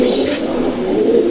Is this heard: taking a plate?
no